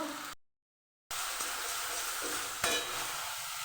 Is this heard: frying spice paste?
yes